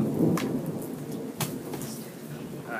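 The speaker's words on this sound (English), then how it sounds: "Alright, it's thundering outside." Thunder rumbles outside during a rainstorm, a low rolling roar under steady rain with a couple of sharper cracks, heard indoors and faintly muffled.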